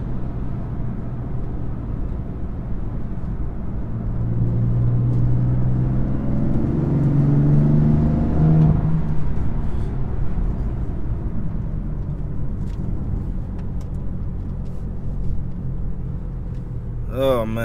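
BMW F80 M3 driving on a winding road, a steady low engine and road rumble with a swelling rise in the middle, heard from inside the car with no talk.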